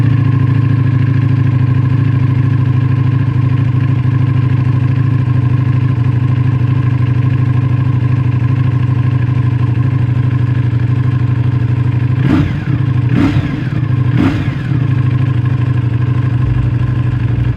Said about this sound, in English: you got the dry clutch tambourine. Got the rattle happening.